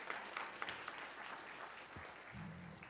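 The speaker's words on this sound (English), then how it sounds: "we can applaud." Audience applause at a board of education meeting, a brief burst of many hands clapping at moderate distance, with faint voices near the end.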